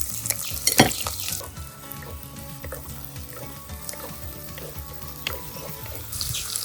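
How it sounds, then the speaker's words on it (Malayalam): Chopped onions and curry leaves hitting hot oil for a Kozhikode-style mango chili curry, a sharp burst of sizzle at first, then a softer steady frying crackle with occasional spoon stirs close by. "വേപ്പില, അരിഞ്ഞു വെച്ച ഉള്ളിയും ഇതിലേക്കിടാം."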